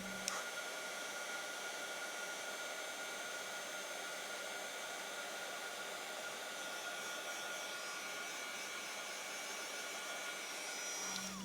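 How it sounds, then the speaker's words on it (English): A heat tool blows continuously to melt embossing powder on cardstock for a handmade card, a steady hair-dryer-like whoosh that holds constant from start to finish with no voices. "now I'll just allow my heat tool to heat up and then I'll melt the powder"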